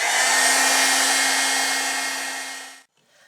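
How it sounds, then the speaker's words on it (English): A craft heat tool blows hot air in a loud, steady whooshing hum with a constant motor tone, tapering slightly before it switches off and leaves near silence. "So I have my awesome heat tool here"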